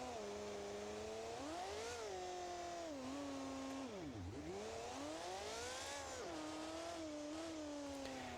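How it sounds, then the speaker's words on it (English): A 1,480-horsepower monster truck engine with noisy turbos in BeamNG.Drive revs up and down, its pitch rising, sagging sharply and climbing again, with a whining turbo tone over a continuous loud, even roar and no talking. "Got very noisy turbos."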